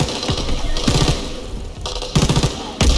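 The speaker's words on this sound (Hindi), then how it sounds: "ये देखिए काफ़ी हैवी फायरिंग आ रही" Heavy gunfire in Call of Duty WWII, bursts of shots coming in repeated clusters over steady in-game background noise, with loud volleys near the start, middle and end.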